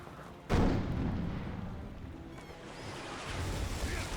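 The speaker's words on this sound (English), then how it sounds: "I guess you have to man your cannons and stuff, and they have a cooldown." A heavy cannon boom fires in a naval battle in the pirate video game Captain Blood, a sudden loud blast that leaves a sustained rumbling wash of noise.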